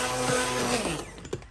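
A handheld stick blender whirring through vegetable soup in an Instant Pot, a steady close motor hum that winds down and stops with a couple of knocks.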